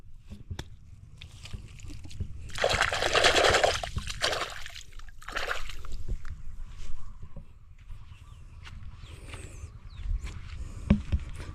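Water splashing and trickling as chili plants are watered on open vacant land, a louder burst of spray then quieter dribbling with outdoor background noise and occasional voices.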